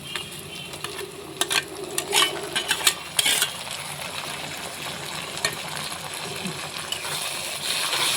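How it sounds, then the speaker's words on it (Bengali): Cumin, ginger paste, garlic paste and chili paste fry with half-fried onions in a pan for a papaya curry, with a close, steady sizzle broken by stirring scrapes and light utensil clinks. "পেঁয়াজগুলোকে আধা ভাজা করে নিলাম এখন দিয়ে দিব জিরে আদা বাটা রসুন বাটা লঙ্কা বাটা একসঙ্গে দিয়ে দিচ্ছি"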